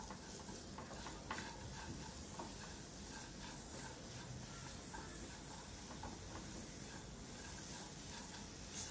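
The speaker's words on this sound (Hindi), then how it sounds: "इधर हमारे ड्राई फ्रूट्स भी फ्राई होने आ रहे हैं, 2-3 मिनट एकदम मीडियम फ्लेम पे चलाते हुए इस तरह से आप इसको रोस्ट कर लें।" Dry fruits roast in ghee over a medium flame, giving a faint, steady sizzling hiss with occasional light scrapes and clicks from stirring.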